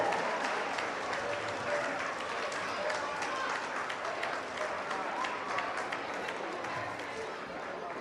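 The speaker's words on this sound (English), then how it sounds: "let's stand to our feet and clap it up for these boys" An audience at a youth football all-star banquet stands and claps for the players, a continuous, even roar of applause from a large crowd filling the whole stretch.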